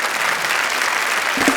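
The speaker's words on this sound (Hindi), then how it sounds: "जोरदार तालियां इनके लिए" A studio audience at a Hindi comedy poetry show breaks into loud, sustained applause, the clapping dense and even across the short stretch.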